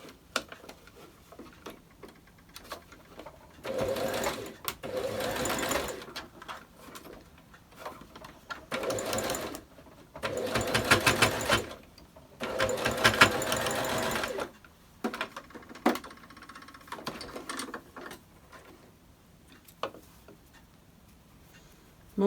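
A sewing machine runs a regular straight stitch on a homemade face mask in short bursts of close, rapid mechanical whirring and ticking, separated by quiet pauses and small handling clicks.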